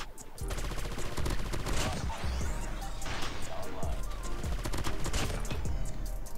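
Rapid automatic gunfire from the video game COD Mobile, dense bursts of shots rattling loudly and almost continuously over several seconds, with a player talking over it.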